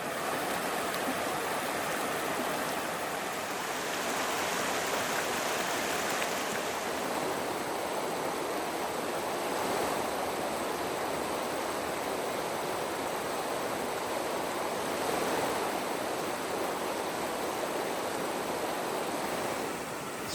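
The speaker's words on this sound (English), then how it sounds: "from all this water just rushing over it all the time" Water rushing steadily over smooth, polished rocks in a stream along the Superior Hiking Trail in autumn: a continuous, even, fairly close wash of sound with no pauses and no voices.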